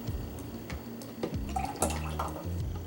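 Thick tamarind sauce is poured into a blender alongside coconut milk, making soft, close drips and gloopy splats in an uneven rhythm.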